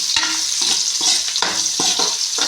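Turmeric being stirred into a frying egg and tomato pulao masala, with loud, close scraping strokes coming in a steady rhythm over a continuous sizzle. No one speaks.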